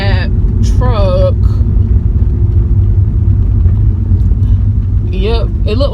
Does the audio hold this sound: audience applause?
no